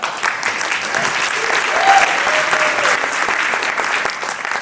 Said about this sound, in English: we give it a clap.